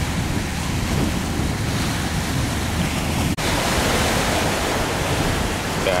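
Large waves churn around a steel boat out at sea, producing a loud, unbroken wash of surf with wind roar, heard up close for several seconds without talk.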